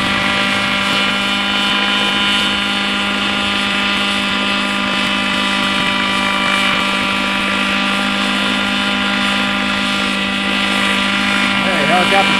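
A DJI helicopter drone climbs with a loud, steady rotor drone and constant motor whine throughout, close and unbroken.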